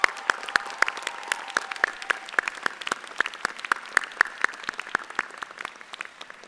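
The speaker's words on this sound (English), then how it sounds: "So can the graduates please join me in a round of applause for your friends," Graduates at a law school commencement applaud their families and friends: steady, sharp hand claps at moderate distance, continuing evenly throughout with no talking.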